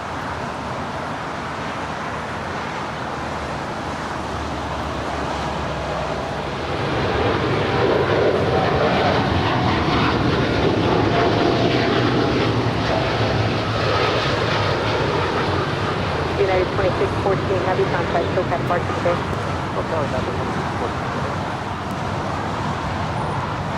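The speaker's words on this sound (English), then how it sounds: "This is United 2614 headed to Newark. It's a 787-10 Dreamliner," A two-year-old United Boeing 787-10 Dreamliner bound for Newark at Los Angeles International Airport, its broad jet roar swelling after a few seconds and holding steady and loud, mixed with background traffic hum.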